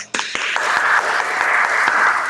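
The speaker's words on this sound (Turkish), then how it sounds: "eliniz müsaitse onlar için bir alkış yapalım mı beraber" A crowd breaks into sustained applause, many hands clapping densely and evenly, loud and continuous until the end.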